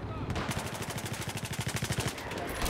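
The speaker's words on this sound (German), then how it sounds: "Ich schieße da mit dem MG rein und keiner von denen stirbt." Machine gun fire in Battlefield 4 rattles in one sustained, rapid burst of evenly spaced shots lasting about two seconds, loud and close, with other game sounds around it.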